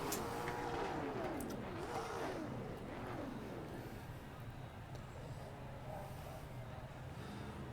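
Late model race car engines rumble together at Hickory Speedway, a steady dense roar with a few rising and falling engine notes passing early on.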